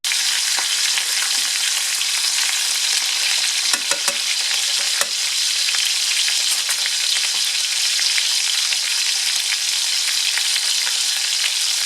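Pork chops frying in a pan give off a constant loud sizzle and hiss with scattered pops and crackles throughout, no voices.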